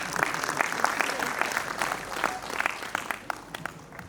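Applause rises from the audience at a Hindi poetry gathering, a kavi sammelan, with scattered clapping rhythms that are moderately loud and slightly uneven throughout.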